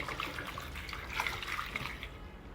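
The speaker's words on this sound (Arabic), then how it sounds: "بدي أضيف عليه مية وأسلقه تقريبا ربع ساعة" Water runs from a tap onto frozen pumpkin chunks in a pot, a steady close splashing trickle with no talk.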